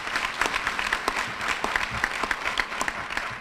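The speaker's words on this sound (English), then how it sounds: "give her a round of applause." A room of guests at an NAACP Freedom Fund banquet claps in an even round of applause, moderately distant with scattered sharper claps standing out from the steady patter.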